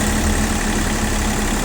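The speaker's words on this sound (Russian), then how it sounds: "Идеально трактор запускается." A Japanese mini tractor engine, started without glow plugs, idles at close range with a steady, even low rumble and no talk over it.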